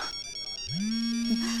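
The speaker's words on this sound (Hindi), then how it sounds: "हमारा भी फोन आ गया, बताइए ना।" A mobile phone rings with an electronic ringtone, a pulsing pattern of tones followed by a sustained sliding tone, fairly loud and close, with a voice faintly present underneath.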